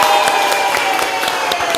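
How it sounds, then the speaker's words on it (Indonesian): Classmates clap together in an Arabic language lesson, a brief steady burst of applause from a small group filling the room, with faint voices mixed in. "tepuk tangan lagi sekali lagi"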